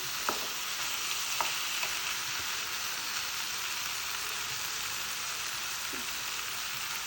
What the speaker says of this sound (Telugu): ధనియా పౌడర్ దీంతో మొత్తం కలిసేలా ఒకసారి కలుపుతున్నాను